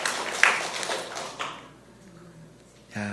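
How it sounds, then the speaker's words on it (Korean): Church congregation at a Sunday service breaking into a short burst of applause, brisk and moderately loud, then fading into quiet before a faint voice returns. "정말 더 건강하시라고 박수 좀 해주시겠어요?"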